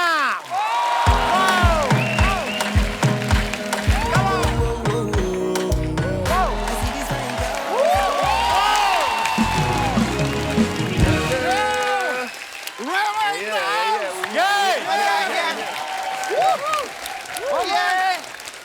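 A television studio audience applauds and cheers loudly for a Nigerian Afrobeat star as he is welcomed onto a comedy talk show, a long sustained roar of clapping with whoops, a host's voice and music woven through it.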